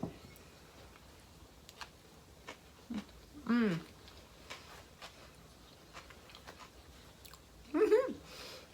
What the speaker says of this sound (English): The crunch of the cucumber,